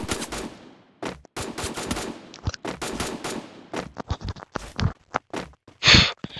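Rapid automatic gunfire from the Free Fire video game bursts in loud, dense volleys, then breaks into scattered single and short bursts of shots, ending with a heavier blast, with no talking over it.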